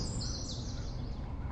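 Small birds chirp and twitter along the Red River, high bright calls layered over a steady outdoor rush of water or wind, no talking.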